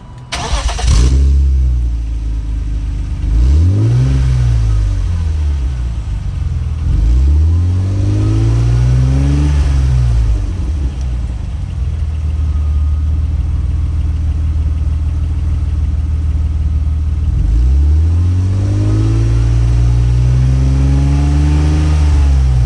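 A 1997 BMW Z3 engine revs repeatedly through a loud, throaty homemade cat-back exhaust, rising and falling in several strong pulls over a steady rumbling idle.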